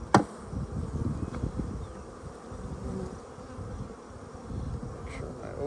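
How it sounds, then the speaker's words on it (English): Bees buzz steadily nearby, a low droning hum that swells and dips over several seconds, with a few soft clicks and rustles. "Try not to squish any bees, but it happens, so you just try not to."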